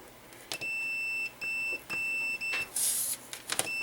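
A multimeter continuity tester gives a series of sharp electronic beeps while probing model railway track, with steady tones of varying length broken by short gaps and clicks, recorded close up.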